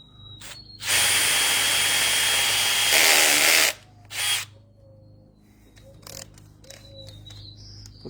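A power drill bores a hole through a wooden crossarm with a hardwood pin in a backyard, two loud sustained whirring bursts followed by a short final burst, then quieter clicks and faint tonal whines.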